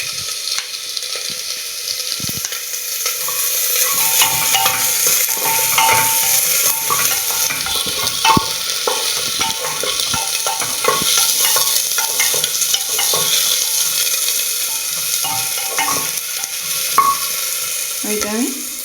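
Chopped beans and potato fry in a pan with a steady sizzle, broken by repeated scrapes and taps of a spoon stirring against the metal, close and continuous with no talk.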